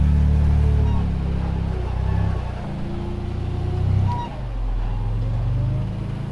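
An off-road buggy crawls over a sand trail rated 10 at Sand Hollow, its engine a loud, close, low droning rumble that rises and dips with the throttle.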